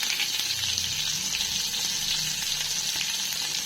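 Chopped small shallots and fenugreek frying in hot oil for a tempering for a Tamil sardine fish curry, giving a steady, close, bright sizzle with no talking.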